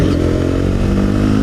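A 2015 Honda CBR 300R motorcycle accelerates with a steady, loud, close engine drone and rising revs throughout, without any talking.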